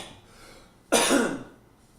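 A single sharp cough with a throat-clearing rasp, close and sudden after a near-quiet moment, then fading over about half a second.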